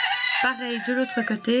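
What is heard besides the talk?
rooster crowing in a country village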